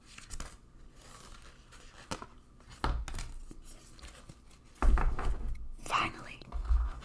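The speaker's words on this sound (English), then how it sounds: "These cards are heart-shaped. And they're very hard to shuffle." Heart-shaped tarot cards are shuffled by hand in soft, irregular bursts of papery rustling and crisp card slaps, mixed with whispered speech.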